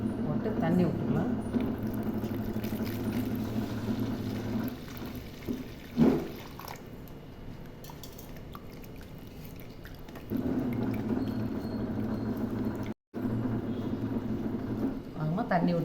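Water is poured into a badusha flour mixture with salt during Tamil sweet preparation, a soft continuous trickle and splash that comes and goes over about sixteen seconds, close by and moderately quiet.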